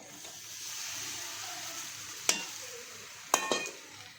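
Sabudana khichdi mixture being stirred in a pan: a quiet, low hiss of cooking with two crisp metallic clinks of a spoon striking the pan near the end.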